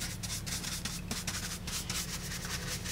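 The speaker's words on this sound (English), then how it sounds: "almost dragging the side of the brush along the surface. And I'm also sort of, pouncing the brush a little bit" Paintbrush dragged and pounced to rub paint into a surface for a rustic finish, a steady close scrubbing and brushing texture with soft repeated strokes and a low background hum, no talk.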